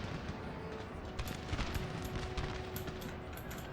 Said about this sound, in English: Or have their guns opened up?